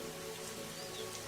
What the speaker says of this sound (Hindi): बारिशें काफी ज्यादा तेज हो रही थीं।